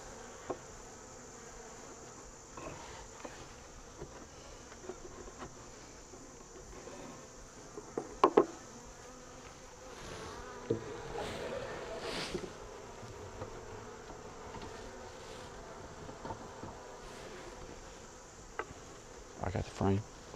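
Honey bees buzzing steadily around an opened American AZ hive during a hive swap, a continuous mid-level drone with occasional closer fly-bys and brief clicks of handling.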